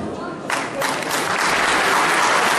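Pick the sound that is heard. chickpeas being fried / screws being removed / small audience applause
small audience applause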